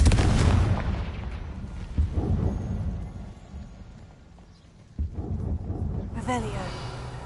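Confringo, a fiery blast spell in the Hogwarts Legacy video game, lets off booming explosive bursts, one at the start and another sharp impact midway, over a rumbling game soundscape.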